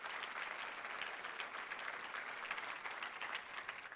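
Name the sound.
applause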